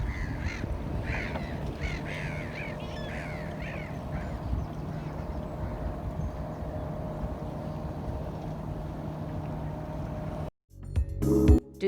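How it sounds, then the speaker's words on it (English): Seagulls calling over Ford Lake, a series of harsh repeated cries in the first few seconds over steady lakeside ambience and low boat drone, then a sudden louder clattering burst near the end. "and there are seagulls."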